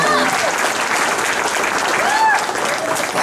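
A gathered audience applauds with scattered cheers for an honoree, Linda Walsh, at an anniversary celebration, a dense steady wash of clapping throughout with voices mixed in.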